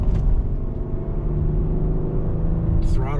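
A 2021 Ford Explorer ST in sport mode revs eagerly, its engine rumbling steadily and loud from inside the cabin, with a brief higher burst near the end.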